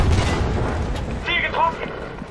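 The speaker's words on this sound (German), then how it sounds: "Artillerie!" Artillery fire booms in the Battlefield 5 video game as a dense rumbling barrage with layered blasts, close and loud, while a voice calls out in the middle of it.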